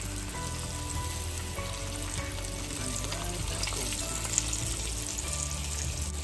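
Breaded fish fillet frying in hot oil, a steady dense sizzle and crackle that fills the whole stretch, close and fairly loud with no talking over it.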